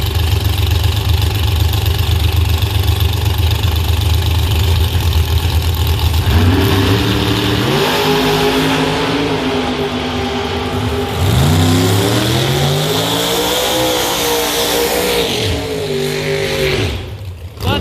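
A Camaro and a Corvette on an outlaw drag-racing run at Beech Bend Raceway: loud, continuous engine roar with idling that builds into hard revving and rising acceleration sweeps, close and dominant, with no voices.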